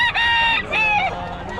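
A rooster crows twice in quick succession, loud and close, each call a bright drawn-out crow with no other sounds around it.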